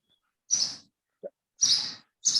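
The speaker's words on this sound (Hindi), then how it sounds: "किसी के बैकग्राउंड में चिड़िया की आवाज आ रही है" Bird chirping in the background of a participant's microphone on an online class call, three short bright chirps repeating about once a second, faint and thin, with no one talking over it.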